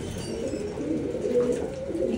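A low, continuous cooing of paired pigeons fills a mud-walled breeding loft, close and steady with several birds overlapping and no voices.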